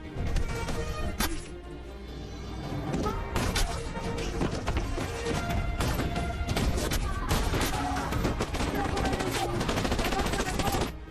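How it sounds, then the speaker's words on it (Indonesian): Dense gunfire in a war film about a sniper and Iranian soldiers, rapid overlapping shots and bursts of automatic fire with thuds, loud and continuous over about eleven seconds. "Dia menembak tentara Iran dengan membabi buta"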